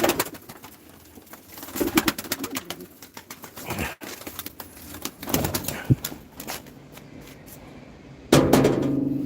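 Pigeons cooing in a loft after a flight, soft repeated coos with scattered clicks and flutters close by, no talking.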